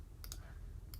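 Calculator keys pressed while entering numbers for a Pythagorean theorem problem, two quick pairs of crisp plastic clicks, one early and one near the end, close and fairly quiet with no talking.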